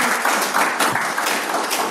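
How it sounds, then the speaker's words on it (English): Applause from a conference audience at a security talk on low-code and no-code risks, a brief dense burst of many hands clapping at moderate loudness, fairly close. "You're clapping"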